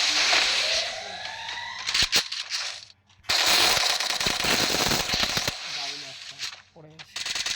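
Video game gunfire rattles in rapid automatic bursts, loud and close, broken by a brief pause and then renewed firing, with shorter shots and game effects toward the end.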